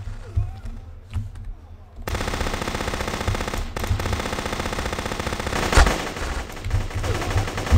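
Mounted machine gun in the blocky shooter GunCraft fires a long, rapid, continuous burst after a short quieter lead-in, loud and close, with a few extra bangs mixed in.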